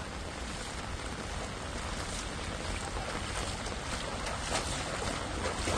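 Strong floodwater current surges through a flooded street in Sochi as a steady, dense rushing roar, loud and unbroken throughout, with no voices.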